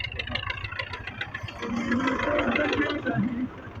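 A tractor carrying a filled water tank rumbles toward the listener, its engine a steady mid-pitched drone that grows slightly louder, with someone talking over it at times.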